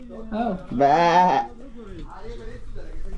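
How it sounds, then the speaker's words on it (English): A goat on a khat farm in Ethiopia gives one long, loud, wavering bleat up close, with fainter animal sounds and people talking nearby before and after. "that is a goat. Bah, bah. I heard him."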